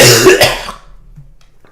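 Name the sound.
cough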